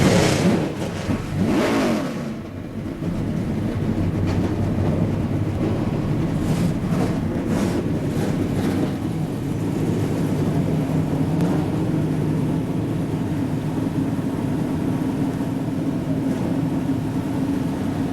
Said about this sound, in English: The engines come to life and the adrenaline level just shoots up tenfold here